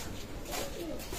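A pair of Pakistani teddy pigeons coo briefly and faintly, a low murmuring call against soft background noise.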